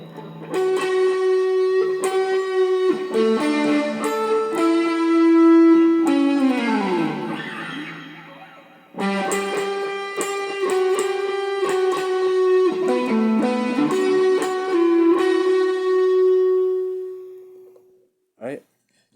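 A distorted electric guitar plays a melodic phrase, with bent and sustained notes, pausing briefly before a second similar run, then one short final note.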